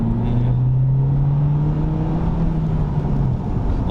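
A BMW 1 Series (F20) 114i M Sport tuned to Stage 1, 220 hp, drones loudly from inside the cabin at full throttle, pitch climbing steadily as it accelerates hard, then easing slightly near the end.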